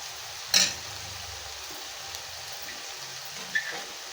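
Carrot, capsicum and cabbage cooking in a pan: a soft, steady sizzle underneath, broken by two sharp stirring clatters, one early and one near the end, quiet and close with no voices.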